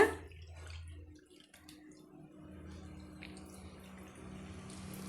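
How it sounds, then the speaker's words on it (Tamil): Water runs from a rinsed mixer jar into batter, a soft trickling pour with faint splashes and drips, quiet and close, tapering off early and then resuming as a gentle stream. "நம்ம மிக்ஸி ஜாரை அலசிட்டு அதில் வர்ற தண்ணியே அளந்துட்டு நம்ம சேர்த்துக்கலாங்க"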